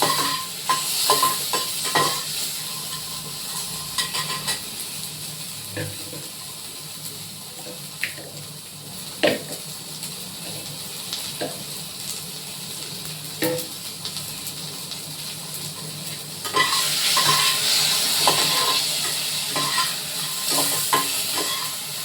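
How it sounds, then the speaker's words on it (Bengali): Onion and tomato masala frying in a pan, a low steady sizzle broken by scattered scraping clicks of a spoon stirring, then a louder hiss of sizzling in the last few seconds; no talking. "এটা আমি ভালো করে একটু ভাজা ভাজা করবো মশলাটা, এই পেঁয়াজটা।"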